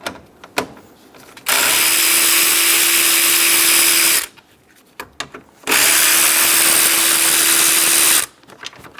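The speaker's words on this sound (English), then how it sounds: "Using a 10mm socket, remove the two fan bolts." A power tool with a 10mm socket backs out the radiator fan bolts on a 2010–2014 Subaru Outback, whirring loudly in two sustained bursts of about three seconds each, separated by quiet clicks and handling noises.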